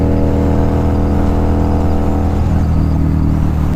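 A Harley-Davidson motorcycle engine cruising in top gear, a loud, steady close-up drone with a deep rumbling hum that holds at a constant pitch throughout.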